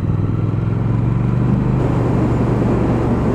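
A Triumph Speed Twin motorcycle with a big, torquey engine pulls steadily under load, its loud, close exhaust drone holding a constant rumble, then rising slightly in pitch.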